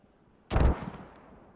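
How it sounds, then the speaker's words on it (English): A single mortar shell lands in a tactical multiplayer video game match, a sharp low boom that decays into a fading rumble over about a second, fairly distant and alone with no talk. "We'll push back down here, see where the mortars are going to land"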